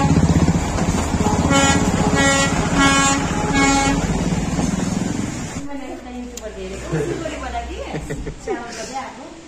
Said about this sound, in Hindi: जिस रोड पे हम लोग क्रॉस कर रहे हैं उसी पे ट्रेन भी क्रॉस कर रही है